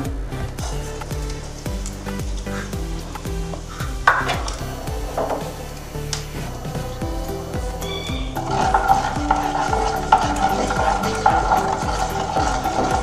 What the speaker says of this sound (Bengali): তেলটা গরম হলে বেশ কিছুটা কালো জিরে দিয়ে দিলাম।